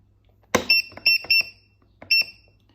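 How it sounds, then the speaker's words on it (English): An iSentrol US211MA digital water flow meter alarm sounding when flow drops below its set lower limit: a sharp burst followed by repeated clear electronic beeps in two short groups, loud and alone. "it will alarm when the flow rate is lower than the lower limit setting"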